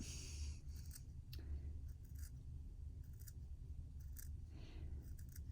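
Scissors snip a series of short cuts into paper in a quiet room, the crisp, close snips coming at irregular intervals over a low steady background.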